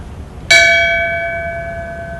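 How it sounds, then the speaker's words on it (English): A single bell struck once in tribute at a memorial, a sharp strike followed by a long, clear ringing tone that slowly fades. "Would you please ring the bell in tribute"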